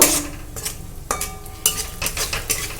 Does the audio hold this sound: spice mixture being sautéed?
yes